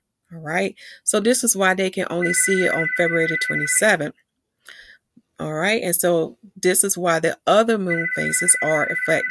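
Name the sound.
telephone ringing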